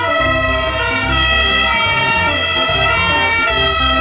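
A toy fire rescue truck plays a loud electronic siren in a steady repeating two-tone pattern, close and continuous with no voices.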